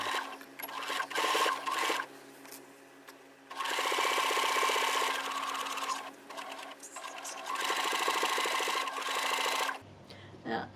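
A sewing machine stitches a clutch bag with a 3-length stitch and an open toe foot, a close, steady mechanical whir running in several bursts with brief stops between them, and no talk during the stitching.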